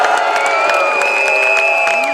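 Crowd at an outdoor farmers' rally in Paris cheering and applauding, a dense, steady roar of shouts and whoops with clapping mixed in throughout.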